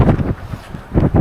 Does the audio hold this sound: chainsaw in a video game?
no